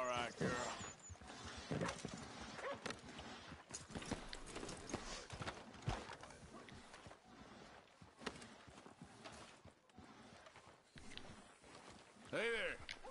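Horse hooves clip-clopping in Red Dead Redemption 2, a steady walking rhythm of soft close hoofbeats, with brief quiet talk and rustling around it and a short snort near the end.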